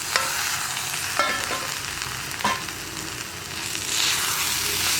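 Chopped tomatoes go into a frying egg korma base, giving a loud continuous sizzle with a few stirring scrapes and clacks, the hiss swelling brighter near the end.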